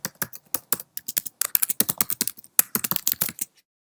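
Fingers typing a hashtag on a computer keyboard, a close, brisk run of sharp key clicks in uneven bursts and short pauses, ending abruptly in silence.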